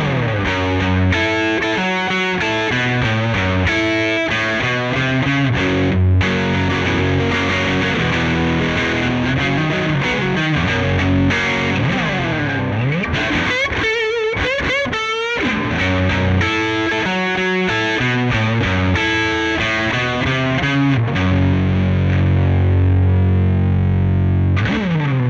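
An electric guitar plays through a BAT Cold War distortion pedal, a boutique overdrive with six clipping modes, two op-amps and three filters, giving heavily saturated, sustained chords and riffs, loud and continuous for the whole stretch without any talk.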